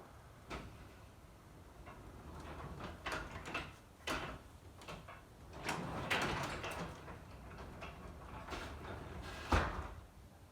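A residential garage door is lowered by hand, giving a series of rattling clanks and sliding rumbles at irregular intervals that end in a sharp thud, fairly faint and with no talking.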